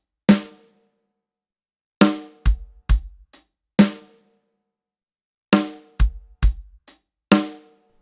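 A sparse drum pattern: sharp snare hits and short hi-hat ticks with low kick thumps, played in separated bursts with silence between.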